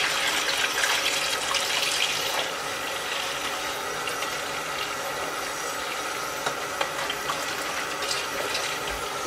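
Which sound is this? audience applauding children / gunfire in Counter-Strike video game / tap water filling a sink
tap water filling a sink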